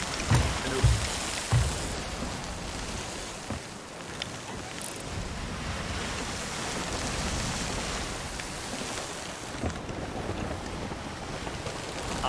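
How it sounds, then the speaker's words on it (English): Rough ocean waves in the pirate game Sea of Thieves wash and churn steadily around a sailing ship, with wind noise layered over the surf and a few low thumps near the start. "You got some crazy waves today, boys."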